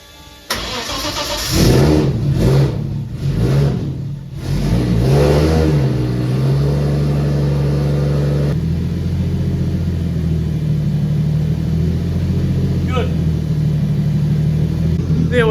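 A car engine starts and briefly revs, then settles into a steady, even idle after ignition and fuel tuning on a Link G4 engine management system, heard close with a continuous low hum and no talking.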